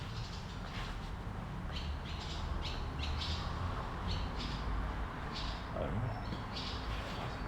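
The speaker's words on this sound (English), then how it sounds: "Oh, the birds are back." Birds squawk and chirp outdoors beside a 1997 Nissan D21 Hardbody pickup under restoration, with repeated sharp calls over a steady background hiss and no talk.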